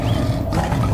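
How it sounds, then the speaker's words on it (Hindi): Lions roar in a dense, continuous low rumble, loud and close, filling the whole moment without any talk over it. "शेरों के दहाड़ने की आवाज है।"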